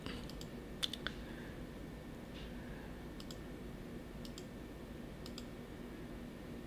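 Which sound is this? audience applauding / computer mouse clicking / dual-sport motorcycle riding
computer mouse clicking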